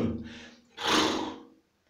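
A child imitates a horse with a single loud, breathy vocal burst lasting under a second, preceded by softer voiced sounds, close to the listener.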